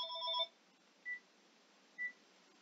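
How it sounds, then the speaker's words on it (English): An old home telephone rings indoors, a short burst of electronic trilling followed by two brief, evenly spaced beeps, faint and alone. "My phone is ringing."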